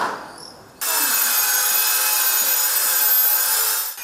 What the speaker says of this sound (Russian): Вот такая какофония звучит сегодня в первой детской музыкальной школе. Здесь идет капитальный ремонт.